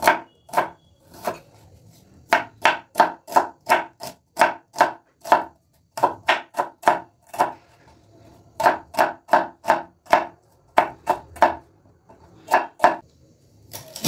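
Knife finely chopping onions on a board for a winter-vegetable dal, a rapid, regular run of crisp cutting strokes in several bursts with brief pauses, close and clear with no talking.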